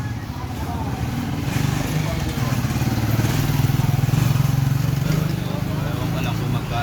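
An old-model Suzuki Thunder 125 motorcycle engine idles steadily up close during a tune-up, its low, even thrum running continuously with a slight rise in loudness midway.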